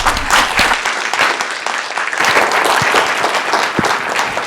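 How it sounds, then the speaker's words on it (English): Loud, dense applause from a symposium audience fills the hall for several seconds without a break, many hands clapping together at a steady, sustained level. "Everyone give him a round of applause."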